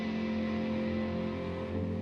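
A band's opening chord rings through effects, a sustained, thick and muddy wash with heavy low-mid buildup and a steady drone that holds at constant level without decay.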